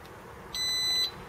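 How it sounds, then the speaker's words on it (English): A Datatool S3 alarm fitted to a Triumph motorcycle gives one clear electronic bleep, sharp and close, lasting about half a second against a quiet background. "that single bleep indicates the alarm is now unimmobilised and you can start the vehicle"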